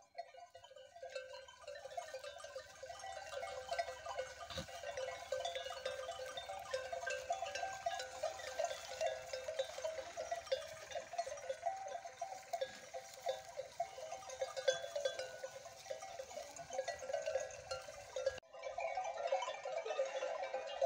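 Sheep and goats grazing on a mountain with bells tinkling, a faint continuous jangle of many bells with a few bleats, distant and steady.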